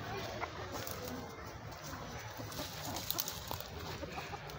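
Chickens cluck on a small farm plot in Kibera slum, a steady low-level cackle running under outdoor background noise, with scattered sharper calls and no clear single voice dominating.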